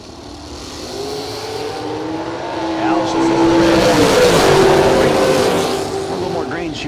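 Drag racing at a strip event, a 2012 American Chassis dragster and a 2001 Race Tech car launching, engine roar building and sustained over about seven seconds, loud and broad with a rising whine, crowd and announcer noise underneath.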